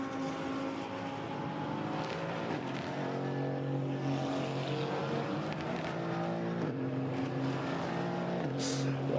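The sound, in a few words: GT4 race cars on Mistral Straight, Paul Ricard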